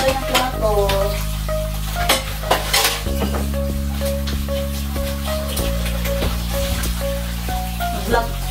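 Dishes being washed by hand, plates and cutlery clinking and knocking in a repeated uneven rhythm close by over a steady hum, with faint voices in the background.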